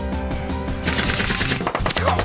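Rapid cartoon gunfire as chestnuts are shot like bullets, a loud, fast rattling burst of repeated cracks over a busy music-like background, continuing steadily for a couple of seconds.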